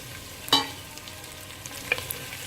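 Tomatoes being stirred into a crab rasam base in a pan: one sharp utensil clink followed by a quieter tap later, over a soft background hiss, fairly faint and with no talk.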